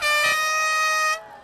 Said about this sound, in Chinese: 一声鸣笛下，上千名路跑选手起跑。